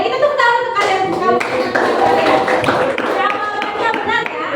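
A class of students applauds in a classroom, a steady wash of many hands clapping close by, with children's voices chattering underneath throughout.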